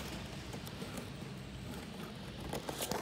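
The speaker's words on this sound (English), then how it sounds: "The rain is coming down like crazy now." Heavy rain from Hurricane Michael pours steadily in a dense, hissing patter, with occasional louder splashes and gusts near the end.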